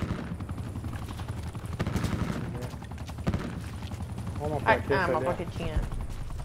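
Helicopter in the video game Call of Duty: Black Ops 4, a rumbling rotor drone mixed with bursts of gunfire, under someone talking.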